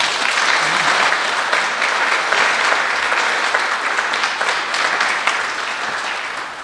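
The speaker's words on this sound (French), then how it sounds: "Merci aux petits bergers, on peut les applaudir." A congregation applauds the children playing little shepherds at a Christmas midnight mass, steady dense clapping filling the church at an even loudness and tapering slightly at the end.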